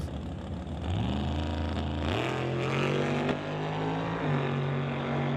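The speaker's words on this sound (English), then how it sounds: "Black's car backfiring" A nitrous Mustang drag racer launching down the strip against a turbocharged Jeep, its engine roaring loudly through rising gear pulls, with a sharp pop of backfire near the middle.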